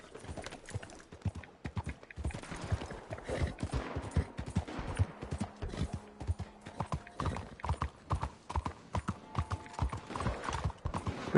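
Horse hooves clip-clop in a steady, fast rhythm throughout in Red Dead Redemption 2, fairly close, with faint mechanical clatter in the background.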